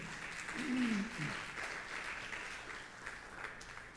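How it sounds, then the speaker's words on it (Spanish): A Sunday worship congregation claps together in church, a soft, even patter of applause heard at a distance with a brief voice near the start. "Dale un aplauso al Señor."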